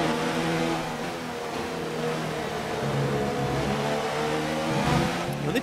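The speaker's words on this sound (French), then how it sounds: "On accélère sur le vibreur, on perd un peu de motricité." A Formula 1 race car in the F1 2019 video game accelerates over a kerb, its engine roaring loud and steady while revving climbs and dips with gear changes.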